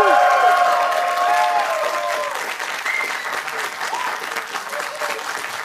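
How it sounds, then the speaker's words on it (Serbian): A studio audience at a Croatian TV show warm-up claps in sustained, loud applause that gradually eases, with shouts and voices mixed into the crowd. "Probajmo, jedan aplauz."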